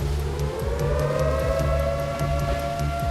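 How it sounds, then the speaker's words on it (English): A loud civil defense air raid siren in Sumas, Washington wails steadily, its tone holding high and unbroken, with a low rumble of traffic underneath. "the air raid sirens in Sumas, Washington are going off"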